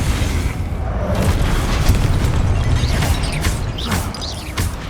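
A Confringo blasting spell explodes in the Hogwarts Legacy video game, giving a loud, booming blast with crashing debris that rumbles on for several seconds.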